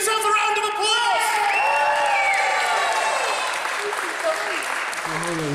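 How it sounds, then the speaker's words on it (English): An audience at a Fusion Pro Wrestling show applauds loudly and steadily, with whoops, cheers and shouted voices rising over the clapping throughout. "give yourselves a round of applause"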